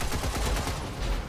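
Video game gunfire from a mech battle against a giant robot, a rapid burst of dense repeated shots at close range that fills the moment and stands alone.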